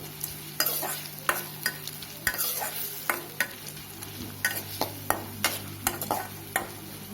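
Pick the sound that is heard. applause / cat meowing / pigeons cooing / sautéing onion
sautéing onion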